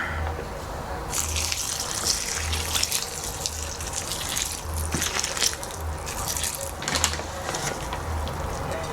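Water runs from a tap in a continuous gushing stream, close and fairly loud, its splashing rising and falling in bursts throughout.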